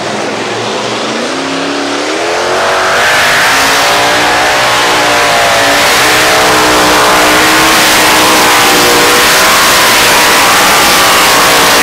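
A modified pulling tractor with a Double Screamin' engine revs loud and close at a tractor pulling event in Fuchtorf, its high, rising whine building steadily and holding at full roar for over ten seconds.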